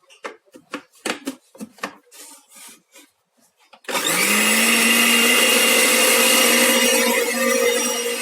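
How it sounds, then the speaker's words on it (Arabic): An electric blender mixing cake batter starts up partway through and runs loud and continuous, a steady whirring motor drone. Before it starts there are scattered clinks and handling noises. "دابا غادي ناخدو الخلاط ديالنا وغادي ندوروها."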